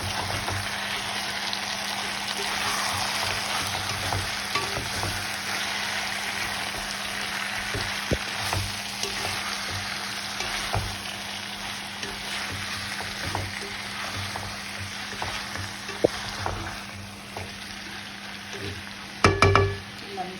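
Prawns stirred and fried in ground masala for a spicy prawn curry, a continuous close sizzle and frying hiss with scattered scraping and knocking of a spoon in the pan, ending in a louder clatter.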